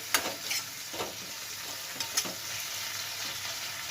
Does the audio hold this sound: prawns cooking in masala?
yes